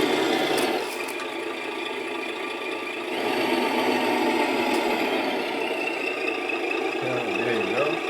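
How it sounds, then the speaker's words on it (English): A 1/8 scale MJX Allrock H8H RC car running a sound-upgrade engine module gives a steady, loud simulated engine drone with a brief revving shift near the end, alone without voices. "So you will hear the engine sound and of course see the smoke from the exhaust."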